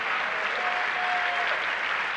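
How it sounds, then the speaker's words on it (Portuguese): Church congregation applauding during an evening family service, a steady dense wash of clapping from many hands, loud and continuous throughout. "Vamos aplaudir essas pessoas."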